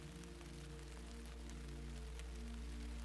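Steady, settled rain falls without pause, a dense even hiss with a low constant hum running beneath it, no voices present.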